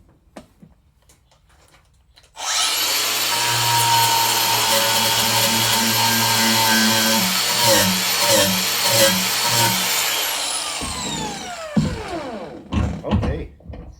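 A power sharpener spins up against the second side of a tool blade, a loud, sustained whine with grinding texture and some stuttering variation, winding down after about ten seconds into scattered handling clatter.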